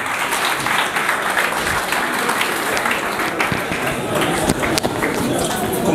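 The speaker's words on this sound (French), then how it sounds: "On acclame pour lui." A live audience at a public talk or conference applauds, a sustained wash of many hands clapping at close range with a few sharper individual claps, continuing evenly throughout.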